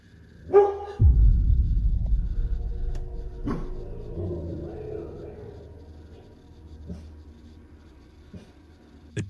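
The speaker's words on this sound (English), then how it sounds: "The dog appears to be growling at something or someone that is not visible on camera." A dog barks once sharply, then growls low and rumbling, with a few soft knocks and clicks afterward in a quiet indoor space. A voice is faintly heard.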